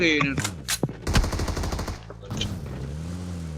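Video game gunfire sounds as rapid bursts of shots in short clusters, mid-loud, with a player's voice talking over and between them.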